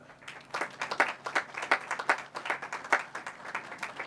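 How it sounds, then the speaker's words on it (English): Outdoor audience applauding at a highway groundbreaking ceremony in Kerens, West Virginia, a brisk run of scattered hand claps that builds and holds at moderate level, with no talk over it. "just by your clapping and everything"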